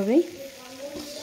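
Sweets being stirred into sugar syrup in a pan, a brief sizzling stir with a louder scrape at the start, then a steady low bubbling simmer.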